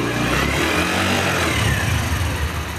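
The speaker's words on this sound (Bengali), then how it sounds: "ইঞ্জিন সাউন্ড খুবই সুন্দর আছে" A Bajaj Platina motorcycle engine runs close by with a loud, steady low rumble and a constant mid-pitched drone, without revving.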